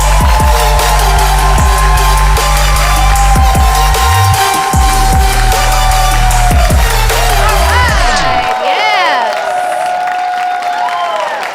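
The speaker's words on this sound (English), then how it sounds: "Start clapping right now." A stand-up comedy audience claps and cheers as a comedian is introduced, loud dense applause mixed with music and a talking host, fading near the end.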